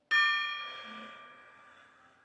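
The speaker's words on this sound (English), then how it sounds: "I'm using my baby gong, so it might sound a little weird on my mic." A small gong is struck once in a breathwork meditation session, giving a bright ringing tone that sustains and slowly fades over about two seconds with nothing else heard.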